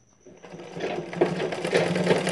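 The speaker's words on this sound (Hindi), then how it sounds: "सीधी तरफ से सिलाई लगाते हैं" A sewing machine stitches a straight side seam on a blouse, starting from quiet and running up into a steady, close, fast mechanical whirr and clatter that holds to the end without any talking.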